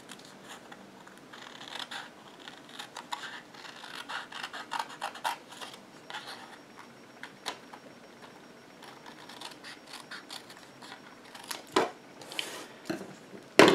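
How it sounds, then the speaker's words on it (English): Scissors or a trimmer cutting a thin border from black cardstock, close soft scraping and snipping strokes in an uneven rhythm, quiet and alone, ending with a few sharper clicks. "just cut a thin border here"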